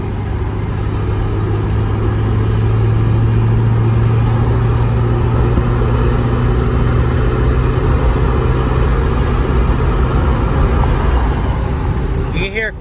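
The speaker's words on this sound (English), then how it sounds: "You can hear quite a bit of turbo." A 2002 Ford F-350 with the 7.3 Powerstroke diesel rumbles loudly and steadily up close, its turbo spool-up hiss riding over the engine's low drone for several seconds.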